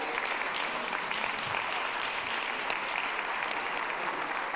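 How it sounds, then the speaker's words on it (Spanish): Steady, dense applause from a large audience at a congressional session honoring trade union representatives, continuous and even throughout with no voices on top. "su secretaria general Nélida Gálvez Saldaña, para quien les damos un aplauso cordial."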